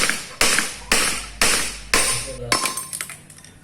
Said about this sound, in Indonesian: Nah, ini saya langsung mukul dengan palu.